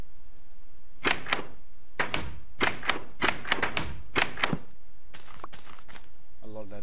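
A door in Minecraft with the Old Days mod for version 1.4.7 opens and closes over and over, a string of sharp, close clacks and thuds in quick pairs, followed by a brief burst of different clattering.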